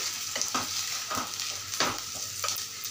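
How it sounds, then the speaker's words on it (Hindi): Chopped ingredients for mushroom Manchurian sizzle and fry in a pan, with several quick stirs of a spatula scraping through the hot oil in a loose rhythm, close and steady throughout. "इतना भुनना है कि इसमें से खुशबू आने लगे"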